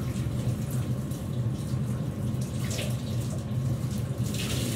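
Steady, loud shower water pours and splashes while shampoo is rinsed off a peacock held close to the shower head, a continuous hiss with no talk.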